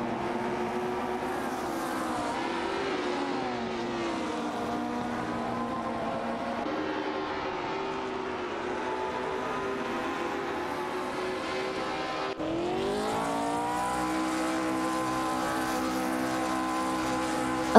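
Race car engines in an AI racing simulation, including a Matra, drone steadily with rising and falling pitch as cars accelerate and shift, several engines layered together and close, with no talking.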